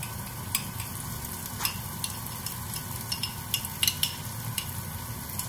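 Sambal tumis and onions fry in olive oil for nasi lemak, with a steady low sizzle under light scattered clicks and scrapes of a utensil stirring the pan, close and moderately loud.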